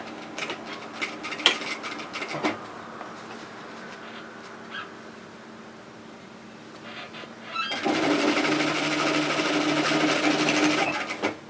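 A sewing machine stitches a lined tote bag seam: a few quiet mechanical clicks and hum first, then from about eight seconds a steady, louder motor whir of continuous stitching.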